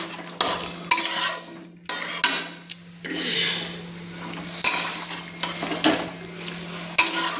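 Chicken pieces are stirred into a spicy masala paste with a metal spatula, producing repeated scraping strokes against the pan in uneven bursts over a low sizzle and a faint steady hum, nobody talking.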